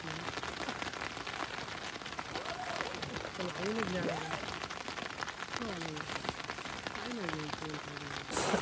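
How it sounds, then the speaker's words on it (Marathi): Heavy rain drums steadily outside a camping tent during a downpour, a dense continuous wash throughout, with someone talking over it. "बाहेर पाऊस आहे ना, निस्पार पाऊस आहे, जोरदार पाऊस आहे"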